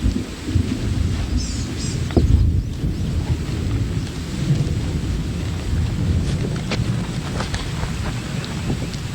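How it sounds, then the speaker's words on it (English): Light rain sprinkling outdoors at a shooting range, a steady soft hiss of drizzle with gusty wind buffeting the microphone and a faint distant rumble, continuous with no speech. "Like I said, it's sprinkling out here now."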